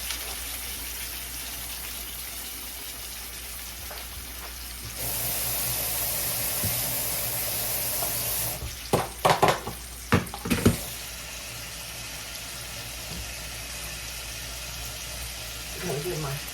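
Food fries in a hot pan, a steady sizzle that swells louder for a few seconds and then falls back, with faint clatter and quiet voices around it.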